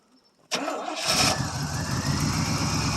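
A 1979 Oldsmobile Ninety-Eight engine cold-starts after a short silence. A sharp crank catches within a second and settles into a loud, close, steady rumbling idle.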